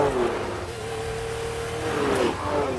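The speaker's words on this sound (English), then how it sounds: "when you unleashed its 5-litre V12, it would do 180 miles an hour" A Lamborghini Countach's 5-litre V12 revs loudly nearby, its engine note swelling and falling across a few seconds with no talk over it.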